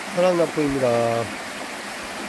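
A mountain valley stream on a hot day, its steady rushing hiss running under a short spoken greeting and then carrying on alone at an even level.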